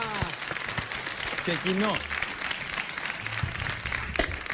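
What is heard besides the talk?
audience applause on a TV game show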